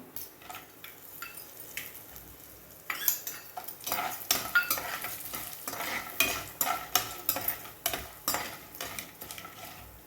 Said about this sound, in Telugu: జీడిపప్పులు వేస్తున్నాను.